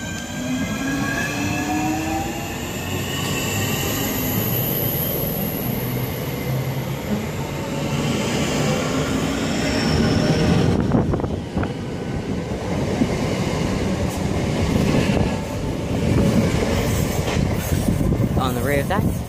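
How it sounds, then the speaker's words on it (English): A Southeastern Class 465 electric multiple unit passes at Swanscombe on the North Kent Line, a loud, steady rail roar with wheel clatter and squeal lasting the whole stretch, surging slightly as it goes by. "the 1547 Southeastern service, from London Charing Cross to Gravesend via Hither Green and Sidcup."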